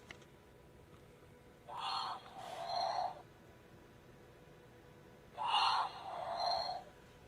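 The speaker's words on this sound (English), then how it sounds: "And he snores." A toy snores in two slow, wheezy cycles, each a drawn-in breath followed by a rasping exhale, with a pause between them. Both are clear and close over a quiet background.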